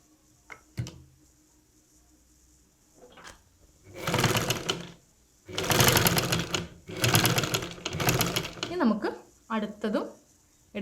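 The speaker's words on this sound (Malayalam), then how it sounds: "എന്നിട്ട് ഇതിൻ്റെ പുറത്തിട്ട് സ്റ്റിച്ച് ചെയ്യുക" Churidar neck being stitched on a sewing machine, no canvas used: several loud bursts of rapid mechanical stitching separated by short pauses, close by, with brief handling clicks and rustles between runs.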